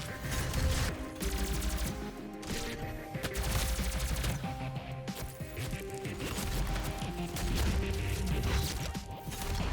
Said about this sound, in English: The plasma rifle is low damage, but it's rapid fire